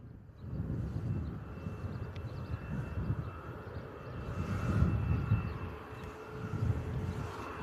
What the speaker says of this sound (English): There's our Ryanair Boeing 737 taxiing down as well.